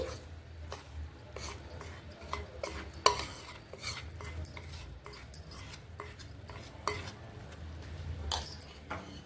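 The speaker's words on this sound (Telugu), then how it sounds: "ఇదంతా పాకంలో బాగా కలిసేలాగా కలుపుకోవాలి." A spoon stirs gram flour mixed with oil into sugar syrup for Mysore pak, making a steady, faint scraping with light clinks against the pan that continues throughout.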